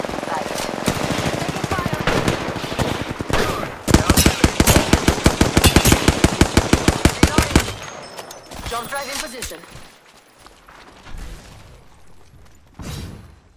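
Rapid automatic gunfire in Apex Legends, with the Hemlock weapon, crackles in dense bursts, peaking in a long sustained volley mid-clip before tapering to scattered shots and ending on one last short burst.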